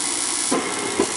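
An L.P. gas furnace burner ignites with a steady broad roaring hiss and a couple of soft low puffs as the flame catches, close and fairly loud.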